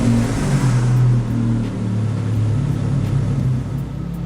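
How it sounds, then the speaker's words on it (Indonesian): A car engine started by phone over Bluetooth idles with a steady low rumble, close and fairly loud, its pitch wavering slightly with no talk over it. "Ferdi, hidupkan mesin."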